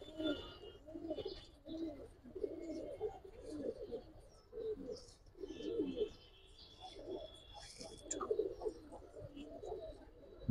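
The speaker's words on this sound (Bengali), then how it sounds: "ছটফটা কবুতর ভাই সব" Several pigeons, giribaz and coloured breeds, coo repeatedly in soft, low, rhythmic phrases nearby, with a few faint chirps and scuffles in the background.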